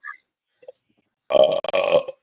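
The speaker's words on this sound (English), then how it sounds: "I just belched up dinner" Someone lets out a loud belch after drinking beer, close and clear, a single rough burst under a second long, with a short break in the middle, after a moment of near silence.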